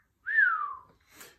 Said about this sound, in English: Sometimes when I'm impressed with something, I whistle